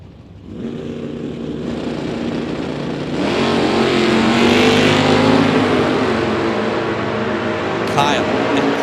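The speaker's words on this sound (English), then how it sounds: "Craig out of Windsor, California, the 78 Camaro left side, 652 is Craig's prediction here for round number 1" Drag racing cars at a bracket race, including a 1978 Camaro, launch with a loud sustained engine roar that rises and builds in intensity, close and continuous, with a brief clatter near the end.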